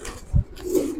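A pigeon in a loft of racing and Giribaz pigeons gives a short, soft, low coo, close by and brief amid quiet background murmur.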